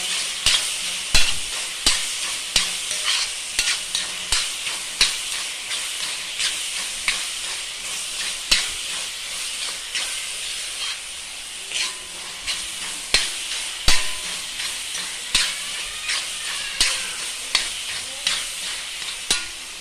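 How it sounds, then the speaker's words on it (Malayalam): Loud, close sizzling of food sautéing in a pan while cooking dum biryani, with repeated scraping and stirring strokes in an uneven rhythm throughout. "ഇത് നന്നായി വഴച്ചെടുക്കാം."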